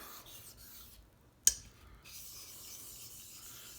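A straight razor is honed on a wet 1k Shapton ceramic whetstone to set the bevel, giving soft close scraping strokes with a brief pause and one sharp tap or clink midway.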